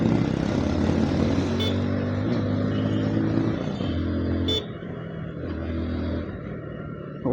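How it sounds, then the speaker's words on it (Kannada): Road traffic in Bengaluru near Whitefield rumbles steadily, with engines droning and idling close by and a couple of brief sharp accents, though no clear horn stands out. "ಓಹೋ ಟ್ರಾಫಿಕ್ ಇಲ್ಲಿಂದನೇ ಸ್ಟಾರ್ಟು."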